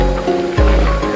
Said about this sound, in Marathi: ते वॉटरफॉल्स आहे